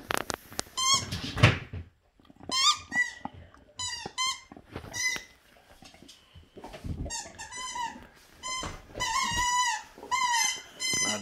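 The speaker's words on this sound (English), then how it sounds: "Squeaky hamburgers for the boys." A squeaky hamburger dog toy is squeezed repeatedly in bursts of high, piercing squeaks, separated by short pauses, close and loud, with no talking.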